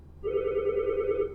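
A phone rings with one continuous electronic tone lasting about a second, loud and near, over a faint room hum with no talk.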